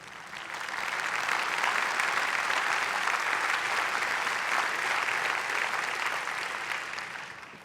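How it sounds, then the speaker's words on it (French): Steady, dense applause from a large audience at Nestlé's annual general shareholders' meeting, swelling in, holding evenly for several seconds, then tapering off. "Des applaudissements bien mérités."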